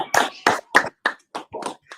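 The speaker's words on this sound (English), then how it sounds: "Clap for yourself." A short burst of rhythmic clapping, around eight distinct claps in quick succession, close and clear, praising a young girl who has just spelled a word in a classroom-style setting.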